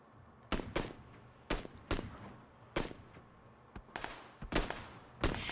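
Gunfire in the video game PUBG: about eight sharp, distant-sounding shots at irregular intervals, some in quick pairs, fairly quiet with no talk between them.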